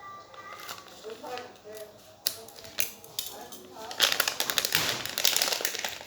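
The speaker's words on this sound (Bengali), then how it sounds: "তো আমি এখন আপনাদেরকে আমার এই লিথিয়াম আয়ন ব্যাটারি টেস্টারটিকে আনপ্যাক করে দেখাবো।" A lithium-ion battery capacity tester is unpacked from its packaging, with close crinkling, rustling and small clicks and taps that grow busier toward the end. A voice is also faintly present.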